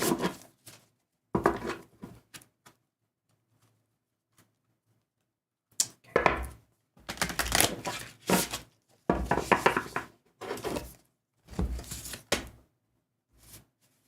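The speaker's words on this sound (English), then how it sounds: "Let's do 2 more shuffles here with these very awkwardly circular cards" Stiff, awkward circular tarot cards shuffle on a slippery surface in several separate bursts of papery riffling and slapping, close and moderately loud, with quiet gaps between them.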